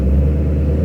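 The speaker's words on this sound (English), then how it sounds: "Yes, my car is loud." Loud Ford Mustang GT engine producing a brief, heavy, deep rumble, steady and close, with no voices.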